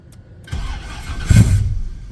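Car engine cranking and catching on a dyno, with a short starter whirr and then a loud close rumble as it fires and settles into a rough idle.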